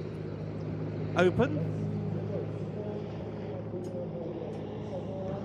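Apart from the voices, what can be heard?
Mi-171 helicopter taking off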